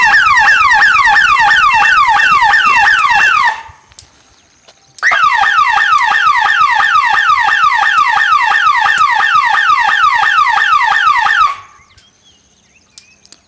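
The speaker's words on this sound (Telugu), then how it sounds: "సోలార్ అలారం చెక్ చేసే విధానం" A solar fence alarm goes off twice during a line check. Each time a loud, close electronic warbling siren plays for several seconds, separated by a short silence, then stops abruptly.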